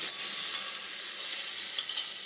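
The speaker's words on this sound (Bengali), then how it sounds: "এবার আলু ভাজাটা করে নিই" Potatoes frying in a pan give a steady, close, hissing sizzle that runs unbroken from start to finish.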